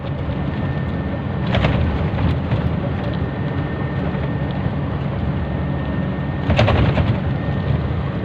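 Steady heavy rain pours down alone with a constant dense hiss, broken by two brief loud cracks of thunder near the start and near the end.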